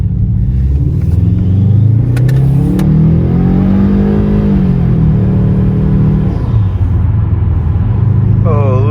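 A 2007 Subaru Legacy GT turbocharged engine revs up and down loudly with a deep rumbling tone and audible intake suction, rising and falling in pitch, close by with no talking.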